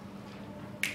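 A single finger snap lands crisply near the end of a short stretch, a close, sharp click rising over a low steady background hum.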